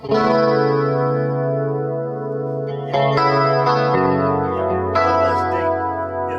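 Sustained electric guitar chords shimmer with a wavering chorus effect, ringing out loudly with a few chord changes and no talking.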